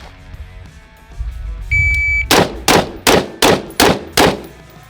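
A pistol fires a string of six evenly spaced shots, each a sharp, loud crack close by, following a short electronic beep from a shot timer.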